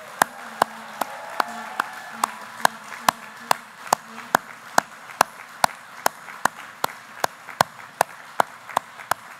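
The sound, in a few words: audience applause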